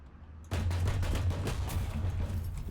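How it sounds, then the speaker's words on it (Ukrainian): Gunfire in the tank game War Thunder: a sudden onset of rapid, overlapping shots and booming impacts that continue steadily with a low rumble underneath, fairly close and loud, no talking. "Хтось по мені стріляв."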